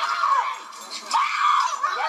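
Women screaming shrilly during a fight at a gypsy wedding, a continuous high-pitched wailing with overlapping voices that rises and falls for the whole stretch.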